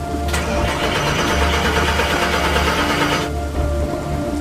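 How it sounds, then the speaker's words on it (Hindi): A car engine cranks and tries to catch under steady, loud rainfall, with a rumbling low drone and broadband hiss throughout. "मैंने फोटो नीचे रखी और गाड़ी स्टार्ट करने की कोशिश की"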